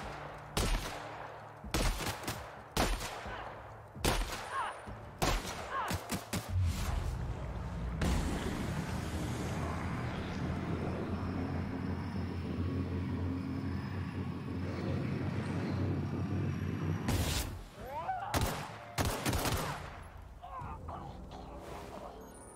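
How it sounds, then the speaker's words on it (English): Shotgun blasts from The Outer Worlds come in a quick series of loud, separate shots, then a long rumbling stretch of sustained noise, then more scattered shots near the end. "I admit, the shotgun feels really good firing it."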